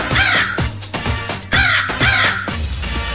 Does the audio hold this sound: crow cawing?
yes